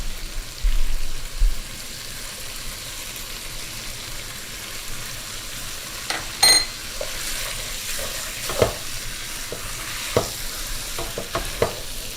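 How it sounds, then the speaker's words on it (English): Meat sautéing in a pan for ghormeh sabzi, a soft continuous sizzle with scattered scraping and stirring clinks of a utensil against the pan, close and moderately quiet. "we're gonna just saute this and turn around till you don't see any red meat here"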